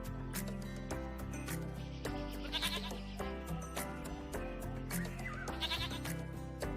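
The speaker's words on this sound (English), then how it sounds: "Goat." A goat bleats in several loud, wavering calls spread over a few seconds, close and clear over a steady tonal background.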